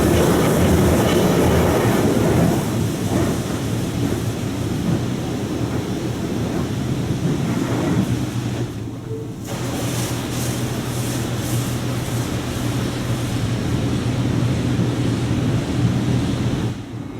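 High-pressure water jets of a D&S 5000 automatic car wash in St. Louis Hills pound steadily on a car during the power blaster cycle, a loud continuous spray and rumble with no talking.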